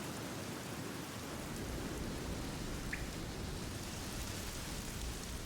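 Steady rain falls in the video game The Black Mirror, a continuous even hiss with no breaks and no one talking.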